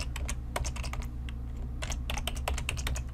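Rapid keystrokes on a computer keyboard while entering Excel VBA code, a steady run of close, crisp clicks with a short pause in the middle and no talking.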